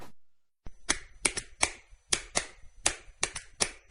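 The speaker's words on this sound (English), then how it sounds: "What's the universal language of a fan? Clapping your hands." Hands clapping with a fan-hands sports accessory produce about ten sharp, close claps in an uneven rhythm, each a crisp, loud snap with no voices.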